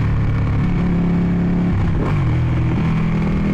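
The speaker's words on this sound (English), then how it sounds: "Can we take a minute and listen to this motorcycle?" A loud, steady Ducati 899 Panigale sport motorcycle engine idling close by, deep and throbby, with a brief rev blip midway before settling back to idle.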